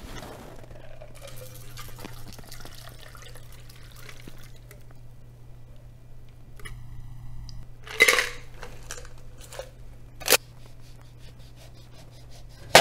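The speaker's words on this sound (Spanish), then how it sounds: "con la ayuda de un colador oruga y de un tamiz, un colador de alambre fino, vamos a hacer un doble colado" A Cosmopolitan cocktail is double strained through a coil strainer and a fine wire sieve, giving faint pouring and trickling with a couple of sharp metallic clinks near the end over a low hum.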